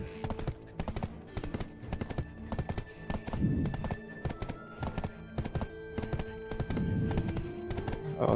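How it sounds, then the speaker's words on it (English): Horse hooves clip-clop in a steady walking rhythm in the video game Black Desert Online, close and fairly loud, with a couple of brief heavier stretches of movement and no talking. "What horse is that, Charles?"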